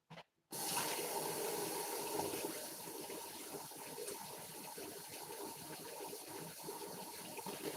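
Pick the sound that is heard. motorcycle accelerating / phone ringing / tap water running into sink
tap water running into sink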